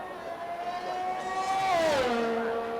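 A race car engine in a racing game at the Belgium track revs and whines, its pitch climbing and then dropping in a smooth sweep, loud and close with no one talking.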